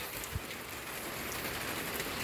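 Rain pours down in the countryside where cattle are kept, a steady soft hiss of falling drops on surfaces, faint and continuous with no talk over it.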